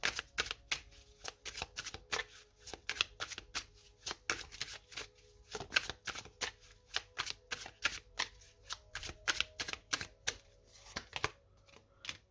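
Oracle cards shuffled by hand in a rapid, crisp run of riffling snaps that stays close and steady, with no voice over it.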